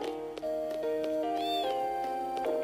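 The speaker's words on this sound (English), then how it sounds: "Did a cat break something?" A cat sound effect in the Final Fantasy 8 video game plays as a series of clear, close meows and wavering cries over steady game music, with no talking.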